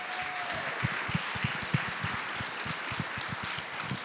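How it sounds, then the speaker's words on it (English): An audience at a City of Weslaco commissioner's address applauds, steady clapping with sharper individual claps standing out throughout, moderately loud and without speech. "let's give them another round of applause."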